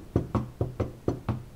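A door knocker raps six times in an even, steady rhythm, each knock a sharp, hollow hit with a short decay, fairly close and alone with no voices.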